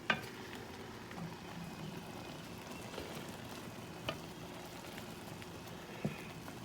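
Mushrooms sizzling quietly in a pan with cream, a soft steady frying hiss broken by a few light clicks of stirring, with no voices.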